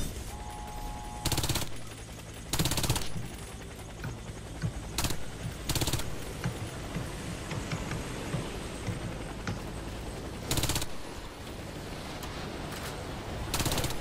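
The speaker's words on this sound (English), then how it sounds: "As an engineer, your primary weapon is a submachine gun." Submachine gun fire from an engineer's primary weapon in the shooter game Warface, heard as repeated loud close bursts of rapid automatic shots with short pauses between them, over a steady background din.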